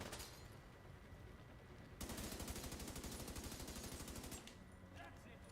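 Enemy machine gun fire striking the player in The Division 2, a long rapid rattling stream of shots that grows louder midway, close and steady, with quieter firing before and after.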